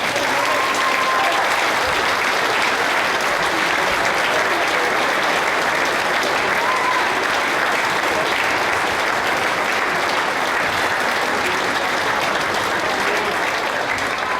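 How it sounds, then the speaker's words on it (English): A large crowd applauds steadily and loudly for the runner-up at the presentation after an All-Ireland 40x20 senior singles handball final, a continuous dense clapping that holds for the whole stretch without letting up. "Will you please give a huge round of applause to Westmeath's Robbie McCarthy."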